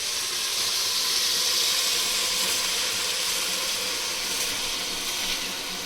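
Soaked rice for chicken biryani tipped into a hot pot, giving a steady, loud watery hiss and steamy rush that runs unbroken from start to finish with no voices.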